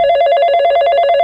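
Telephone bell ringing in a steady, rapid trill, loud and close, sounding alone.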